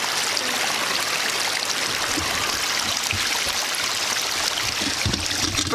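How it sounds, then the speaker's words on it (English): Water rushes steadily from a homemade waterfall into a newly dug pond, a loud, close, continuous splashing stream with no pauses or talk. "First water ever going in the pond."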